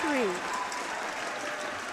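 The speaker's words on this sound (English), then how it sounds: "AC crowd with very colorful clappers." Crowd at a school basketball semi-final clapping with colorful clappers, a dense burst of rattling applause that swells briefly and then holds steady, with speech mixed in.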